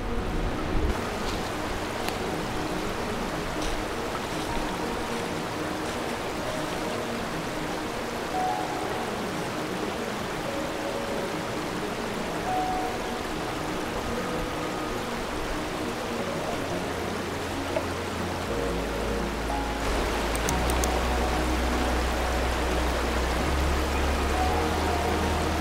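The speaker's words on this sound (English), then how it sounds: "This small river that I followed for more than half an hour created an enchanting atmosphere." A small river runs beside a mountain trail in Sweden, its water rushing and gurgling in a steady, unbroken flow close by, with a low rumble swelling near the end.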